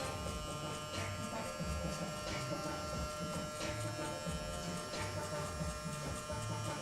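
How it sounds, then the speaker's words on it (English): A barbershop electric hair clipper hums steadily with its blade closed, a constant close buzz held without a break for several seconds. "Clipper closed."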